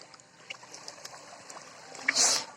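Floodwater flows through a farm field after heavy rain, giving a steady, soft trickling and rushing with small splashes. It is moderately close, and a brighter splash swells near the end.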